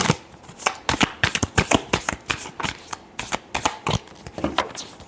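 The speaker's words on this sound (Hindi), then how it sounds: "एक और शफल करेंगे।" Tarot cards riffled and shuffled in quick bursts, a dense run of crisp flicking snaps close to the listener, loud and continuous for several seconds without speech.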